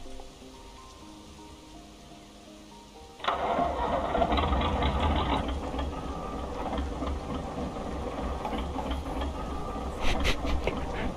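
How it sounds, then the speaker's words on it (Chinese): A Fiat FNM 210 truck's 440-horsepower engine in Euro Truck Simulator 2 cranks and catches about a third of the way in, then settles into a steady, loud, rumbling idle that runs to the end. "我们先启动车辆。"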